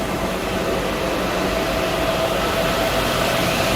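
An exhaust fan mounted in a home garage runs with a steady, loud broadband whoosh and a faint tonal hum. The sound is constant and close, with no talk.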